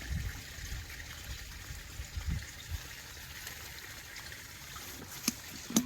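Water runs steadily from an electric pump motor outlet, a moderate continuous trickling stream with a low hum and a few faint knocks near the end.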